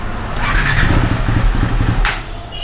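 A KTM Duke 390 motorcycle cranking on its electric self-starter, a loud close whirring churn for about two seconds that stops with a sharp click, then a quieter idle-like hum.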